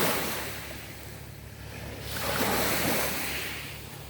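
Waves wash onto a beach at St Ignace, Michigan, a steady broadband rush that swells toward the middle as a wave breaks, with some wind noise and no voices.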